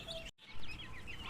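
A hen leading about 40 adopted chicks clucks close by, a few short clucks and chirpy calls around a brief gap, with no one talking.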